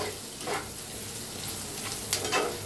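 Onion and vegetables for a potato sabzi with turmeric sizzle steadily in a hot pan, a continuous close frying hiss with a few brief crackling bursts and no talk.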